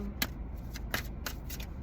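Tarot cards riffle and snap in a few quick bursts, with close, crisp papery flicks at an uneven rhythm over a faint background hum.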